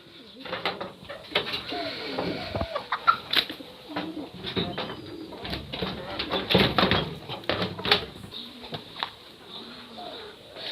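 Hens being released from their coop cluck and call intermittently at close range, with short irregular bursts of bird sounds and light movement noises between them.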